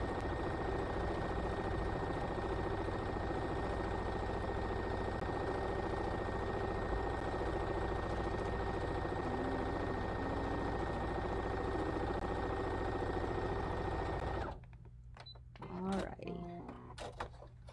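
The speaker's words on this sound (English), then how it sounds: "just sew one more line." A sewing machine stitches a second line along the casing of a mesh bag, its motor giving a steady, close, whirring hum for about fourteen seconds before stopping, followed by faint handling sounds.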